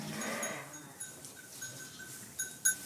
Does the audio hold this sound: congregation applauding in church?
no